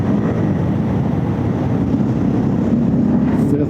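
Suzuki DRZ400S motorcycle engine rumbling steadily while riding in third gear on gravel, a dense, continuous, loud drone with wind and road noise blended in, close to the microphone.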